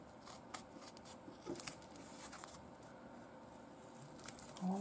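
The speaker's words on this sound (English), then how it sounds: "So I'll just cut on the line." Scissors snip through glitter foam along a drawn line, making faint, close crisp cuts and soft crunching in an otherwise quiet room.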